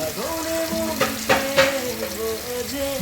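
Fish with turmeric and salt sizzles in a pan, a close, steady hiss broken by a few soft stirring knocks. A tonal, melodic voice or tune runs over it.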